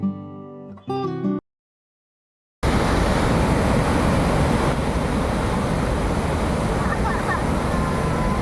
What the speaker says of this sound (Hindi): झरना इतना शक्ति से बहता है कि इसकी गर्जना दूर से सुनाई देती है।